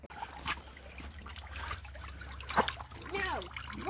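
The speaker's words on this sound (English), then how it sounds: "my other favorite spot is this big spring that pours out where this cave collapsed" A big spring pours out where a cave collapsed beside the Strawberry River, giving a faint continuous trickle of running water with brief splashes, while a voice speaks softly near the end.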